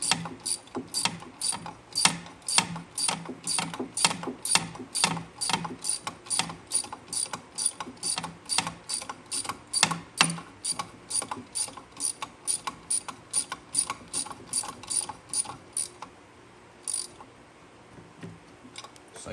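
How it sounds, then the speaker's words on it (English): A hand ratchet clicks steadily in quick, even strokes as a clutch weight bolt on a Polaris snowmobile is snugged down, close and clear, slowing and stopping near the end. "just keep tightening it until it's snug"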